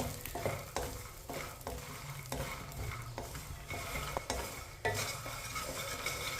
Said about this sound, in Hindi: फूल मखान को हल्का सा ब्राउन कर लेंगे। इसे ऐसे ही चम्मच चलाते हुए ब्राउन करें।